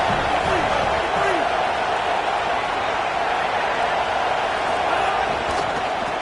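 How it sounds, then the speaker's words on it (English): A stadium crowd in the College Football 27 video game roars as a dense, steady wash of cheering noise, loud and unbroken, with a commentator talking over it. "Listen to this crowd just shaking the girders of this place, trying to help their defense."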